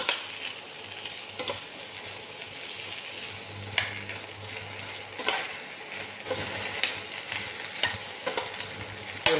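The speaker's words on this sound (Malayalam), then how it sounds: "വെണ്ടക്ക നമുക്ക് ഒന്ന് വറുത്ത് വയ്ക്കാം" Okra frying in oil in a pan, a constant close sizzle with occasional sharp clicks of a spoon stirring the pieces.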